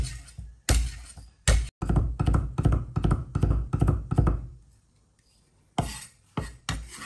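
A knife chops garlic cloves on a cutting board in rapid, sharp thunks, a dense burst of strikes, a pause, then a few more chops close up.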